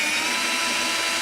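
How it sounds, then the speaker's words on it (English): A cordless drill whines steadily while driving screws into the base of an Osaki OS 4000 massage chair during assembly, one continuous loud motor drone with no talk. "I typically use a cordless drill. It makes the job go by much quicker than most would imagine."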